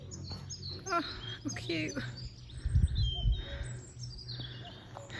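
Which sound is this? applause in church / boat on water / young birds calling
young birds calling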